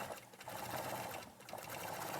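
A sewing machine quilts an outline around the arm of a Sunbonnet Sue figure, running in a fast, continuous, close-up mechanical stitching buzz for the whole stretch.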